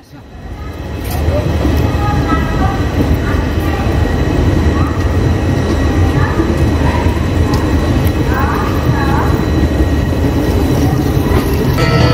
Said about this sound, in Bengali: ট্রেন এসে পৌঁছে গেছে খুরধা রোড জাংশনে